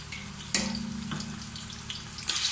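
Tomatoes with garlic-ginger paste sizzle and crackle steadily in a hot pan, with a few louder spurts as they are stirred.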